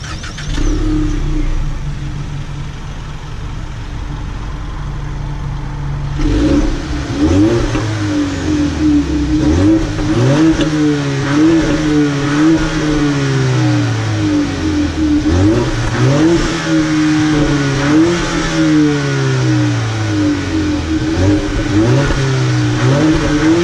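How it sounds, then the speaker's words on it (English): A 2018 Ford Mustang EcoBoost engine idles, then revs repeatedly through the exhaust, rising and falling in steady bursts at close range with no talking. "go ahead and see how the exhaust sounds"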